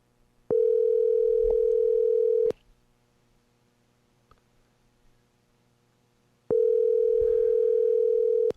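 A telephone call placed on a live radio show rings out in two long steady rings with a silent gap between them, clear and loud with no talk over them.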